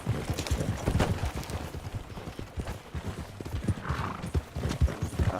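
Horse hooves clip-clop steadily in a video game, a continuous run of fairly loud, rhythmic footfalls with occasional whinny-like sounds and no talk.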